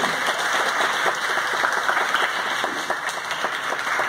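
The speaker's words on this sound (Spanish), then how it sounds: "Fuerte el aplauso." A casting audience gives loud, continuous applause, the many hands clapping densely and evenly with a faint steady tone running beneath.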